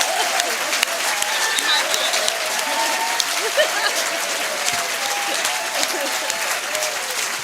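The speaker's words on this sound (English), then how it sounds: "Please applaud." Audience applauding steadily at a community debate, voting for the negative team; dense, even clapping fills the room for the full stretch, with scattered voices faintly mixed in.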